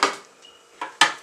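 A utensil stirs homemade Italian sauce in a pot, giving three separate scraping clinks, loud and close, with short pauses between them.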